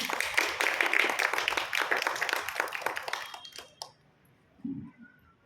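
Audience claps to welcome a lecturer to the stage, a close, dense round of applause that fades out after about four seconds, followed by a brief quiet voice.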